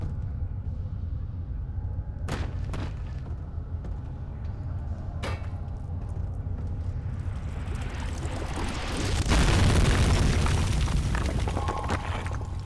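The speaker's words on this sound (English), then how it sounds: "this is the place that we blow up" An explosion in the horror game Amnesia: The Dark Descent, a deep rumbling boom that swells near the end over a low droning background, following a couple of sharp knocks.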